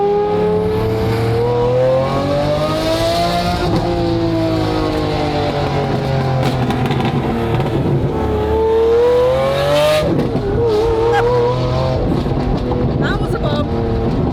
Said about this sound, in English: you are gonna get a glimpse into what does the car sound like